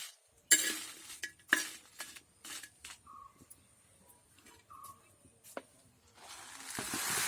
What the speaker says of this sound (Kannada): ಸಾಮಾಗ್ರಿಯನ್ನು ಹುರಿತೀನಿ. ಒಟ್ಟಿಗೆ ಆಗಿ ಹುರಿತೀನಿ ಇದನ್ನು.